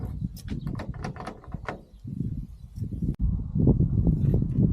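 A camper van's sliding door rolls along its track and shuts with a solid thud, followed by low rumbling handling noise nearby.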